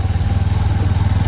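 A motorbike engine churns steadily and loudly up close as the bike pushes through deep water on a flooded, muddy bazaar road, with a continuous low throbbing rumble.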